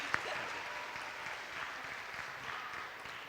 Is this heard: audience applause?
yes